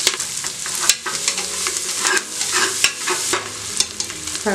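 Onions sizzling in hot oil for a mutton gravy, stirred with repeated sharp scrapes and clinks of a spoon against the pan over a steady, dense frying hiss; close and fairly loud, no voices.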